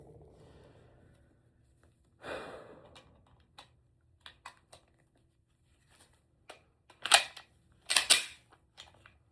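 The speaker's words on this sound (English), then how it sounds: "Let's throw one in the chamber." A pistol is handled and loaded to chamber a round, with a few sharp metallic clacks and clicks standing out near the end after quieter handling noises, close and otherwise quiet.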